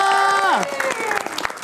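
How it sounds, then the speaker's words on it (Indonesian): A short burst of audience applause for a clown in an Indonesian charity show begins as a sung or spoken note slides down, then scattered claps continue briefly. "Tepuk tangan dong buat Aku Badut Indonesia"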